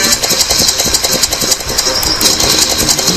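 A cartoon vehicle engine runs steadily in the Bad Piggies video game, a continuous buzzing drone with a rapid knocking pulse, loud and close, with no talk over it.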